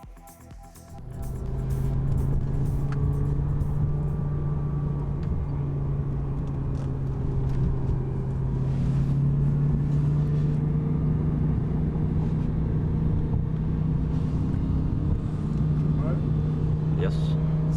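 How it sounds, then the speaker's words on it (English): Red BMW M6 and Lamborghini Gallardo racing from a rolling start in second gear, engines accelerating from 50 to about 250 km/h in a loud, continuous roar with shifting tone and gusts of wind noise. "We raced from 50 km per hour up to around 250 km per hour."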